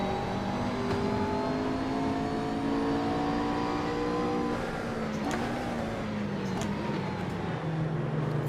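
A GT race car in Assetto Corsa at full throttle delivers a loud, continuous engine roar that climbs steadily in pitch and then dips at a gear change, heard close and with no talk over it.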